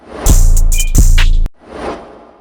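A transition effect from the ATL Culture drum kit, used in a dark bell trap beat: two loud swelling bursts with heavy low boom that cut off abruptly, followed by a softer airy wash that fades.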